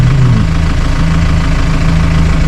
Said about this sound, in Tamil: பாருங்கள் எப்படி சுற்றுது பாருங்க. டயர் வந்து மேலே ஏற மாட்டேங்குது.